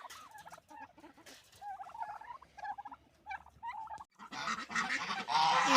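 Turkeys gobble and geese honk in repeated, overlapping calls nearby, growing louder and more crowded toward the end.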